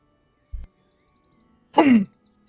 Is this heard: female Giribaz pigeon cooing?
no